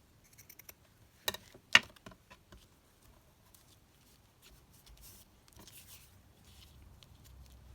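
Scissors snip through paper for a junk journal craft project, a few sharp close cuts followed by soft rustling and handling of paper, no talking.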